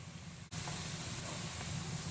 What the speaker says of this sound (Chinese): 3勺生抽，大火快速煸炒